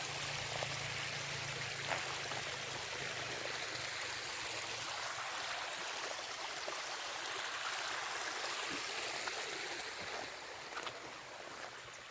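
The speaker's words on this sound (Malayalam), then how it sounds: "കാടിൻ്റെ ഉള്ളിൽ നിന്നാണ് ഈ വെള്ളം വരുന്നത് ഇപ്പം അതോടെ അങ്ങോട്ടാണ് ഒഴുകി പോണത്" Forest stream flowing steadily between rocks, a continuous broadband rush of water that stays even and fairly close throughout, with no voices over it.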